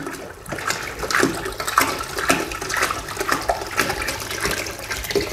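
Distilled water pouring into a bucket, a continuous loud splashing gush with rising and falling surges as the container fills, and no talking over it.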